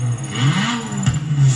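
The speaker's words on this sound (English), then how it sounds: "I'll show you a nice car to bring it out to rev." Lamborghini Aventador engine in Forza Horizon 4 played through a home TV and amplifier setup, a low droning note rising and falling as it revs, steady and fairly loud with a brief surge near the middle, no talking.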